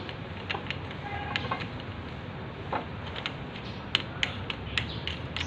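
A fitting being tightened on a stainless kitchen sink, with scattered creaks, small metallic ticks and ratcheting clicks over a steady hiss of background noise.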